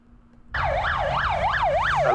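Ambulance sirens wailing outside Russell Square tube station in London, a loud close siren starting abruptly and cycling up and down in steady sweeps over low traffic rumble.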